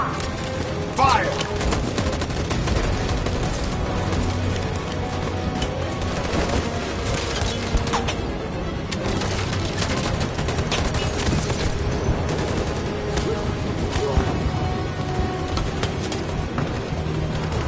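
Sustained gunfire volley in Detroit: Become Human on PS4, dense overlapping shots rolling continuously for the whole stretch at steady loudness, with music and scattered voices mixed underneath.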